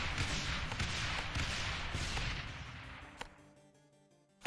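Mortar towers firing in the Rogue Tower game: a dense run of repeated thumping blasts fading out, followed by a couple of isolated sharp pops near the end.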